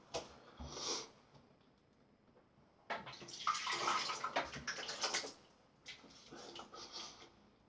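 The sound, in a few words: water running from bathroom tap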